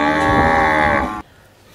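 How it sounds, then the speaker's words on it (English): A black and white cow in the video game Jurassic World Evolution 2 gives a single long, full-bodied moo that holds steady for about a second, then cuts off abruptly into near silence. "Camel and black white combination cow."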